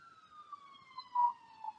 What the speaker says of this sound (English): And now there is a siren.